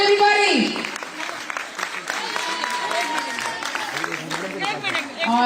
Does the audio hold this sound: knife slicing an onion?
no